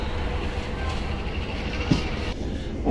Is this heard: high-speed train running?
yes